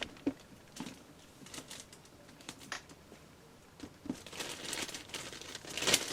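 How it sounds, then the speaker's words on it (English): An action figure of April O'Neil from a Teenage Mutant Ninja Turtles line is slid out of a protective plastic bag, giving off soft crinkling and rustling in scattered bursts, close and fairly quiet, with no talking. "So out of that protective plastic bag, we can"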